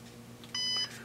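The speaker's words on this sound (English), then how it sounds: "then we'll hear the beep" One short, clear electronic beep from a Bosch CDR 900 diagnostic device sounds over a steady low hum, lasting about a third of a second.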